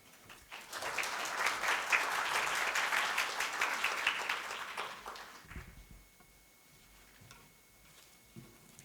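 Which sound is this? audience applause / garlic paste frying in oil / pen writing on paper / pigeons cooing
audience applause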